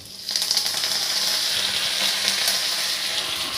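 Curry leaves dropped into hot oil with cumin, bursting into a loud, close frying sizzle that starts abruptly and holds steady with crackling pops throughout.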